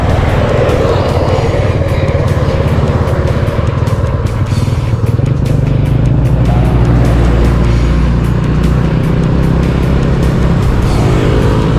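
A small motorcycle on a long road trip from Bulacan to Sorsogon, with a gear-shifting problem, drones with a steady, loud engine hum and road rumble, wind buffeting the microphone throughout.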